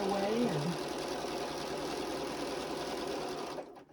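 Sewing machine running steadily during quilting, a close, continuous mechanical whir that holds evenly for several seconds before stopping near the end, with a voice briefly heard over it at the start.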